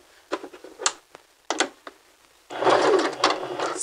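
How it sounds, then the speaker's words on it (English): A home sewing machine stitching fabric in reverse for a few back stitches: a couple of brief start-stop whirring runs followed by a steadier, louder stretch of rapid needle chatter, close-up with no talk. "You're going to take a few back stitches, so press your reverse button down,"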